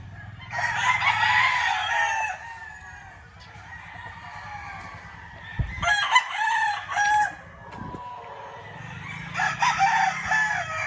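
Gamefowl roosters of McLean, Sweater and white Kelso lines on a game farm crowing, several loud overlapping crows close by with clucking between them.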